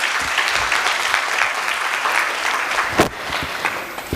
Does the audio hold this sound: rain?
no